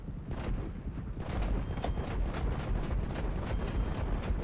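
Gunfire volley in the video game Legion of Doom: dense, continuous rapid shots and booms rolling without pause, loud and close, with no speech.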